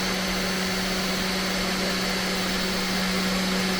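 The spindle motor of a Sainsmart Genmitsu 4040 Pro CNC spins at about 11,500 RPM, making a loud, constant, close whine with an airy rush and no change in pitch.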